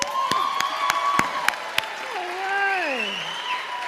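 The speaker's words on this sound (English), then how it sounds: "Give them all another nice round of applause" Audience claps after a poet's performance at a youth poetry slam, sharp scattered claps at first and then a warm round of applause with a voice cheering and talking over it.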